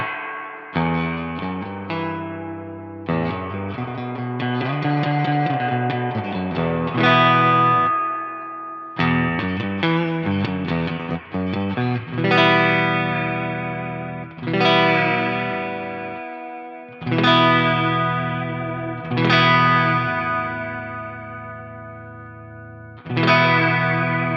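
An electric guitar runs through a Crazy Tube Circuits White Whale V2 spring reverb pedal, playing a melodic run of notes and then spaced, ringing chords. Each is followed by a lush, lingering reverb tail, and no one speaks.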